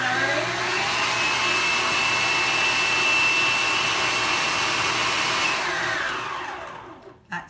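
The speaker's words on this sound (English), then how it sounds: "We're going to put that in the mixer. This is my Kenwood, my very favourite mixer." A Kenwood stand mixer beats Christmas cake mixture with a loud, steady whirring drone that holds for about six seconds before winding down and stopping, with no talk over it.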